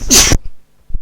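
One loud, sharp sneeze close by, followed by faint breathing and a small sniff.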